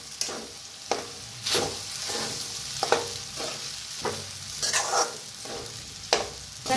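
Sago pearls, peanuts and potatoes roasting in a pan for sabudana khichdi, a spatula stirring in repeated scraping strokes over a continuous gentle sizzle, close and moderately loud, no talking.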